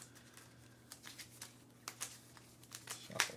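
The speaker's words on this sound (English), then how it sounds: "Shuffle this up." Board game cards being shuffled in a few quiet, scattered riffles and flicks, faint and close, ending in a brighter crisp burst.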